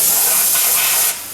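A steady, loud hiss of compressed air carries cavity wax out through an air-line spray probe, continuous and close, then dropping slightly in level near the end.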